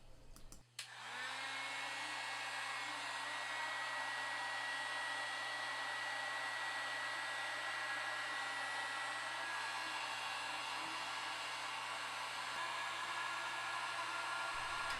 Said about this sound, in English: First, I heat the first 3 inches of the hose with the heat gun until it's pliable.